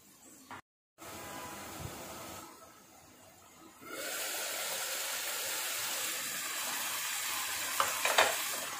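Dry fish fries in a pan with a steady, loud sizzle and hiss, briefly quieter at first and then building into a continuous frying roar with a few stirring scrapes.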